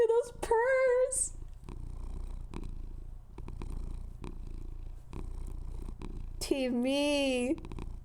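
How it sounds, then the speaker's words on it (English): A cat purrs in a steady low rumble close to the microphone, broken at the start and end by loud, drawn-out high-pitched vocal sounds over it. "Just listen to those purrs"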